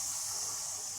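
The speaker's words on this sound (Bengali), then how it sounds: "এবার ছোলাগুলো ওর মধ্যে দিয়ে" Chickpeas go into sizzling chana masala spices in a pan for a pea curry, giving a steady, fairly soft frying hiss with no talking.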